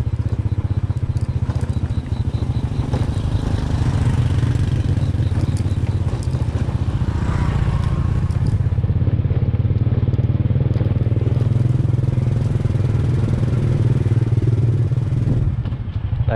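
A motorcycle rides along a rough, bumpy rural road, its engine droning loud and steady close up with rattles and clatter from the uneven surface throughout.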